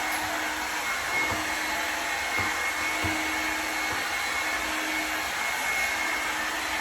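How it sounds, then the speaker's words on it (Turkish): A hair dryer blowing hair dry, a continuous loud whooshing hum with a steady motor whine, close and constant throughout with no talking. "Saçımı fönlemeye devam ediyorum bu arada."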